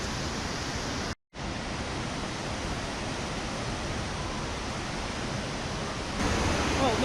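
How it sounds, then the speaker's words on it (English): Låtefossen, a twin waterfall in Norway's Hardanger region where two falls merge at the bottom, roars as a loud, steady broadband rush; a brief dropout interrupts it early, then the torrent continues unbroken. "It's actually two waterfalls that combine at the bottom."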